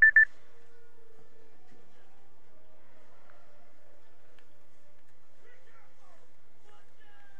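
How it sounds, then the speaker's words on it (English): A tea timer goes off with a short double beep, clear and bright, right at the start, followed by near silence broken only by faint, distant voice traces. "My timer for my tea just went off."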